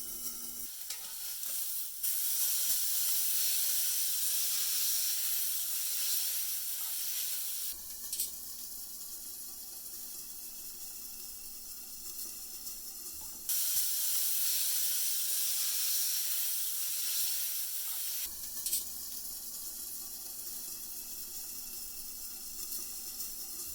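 Steaks sizzle steadily in a hot pan, a loud, continuous hiss with brief breaks and shifts as the meat is moved or added, with no talking.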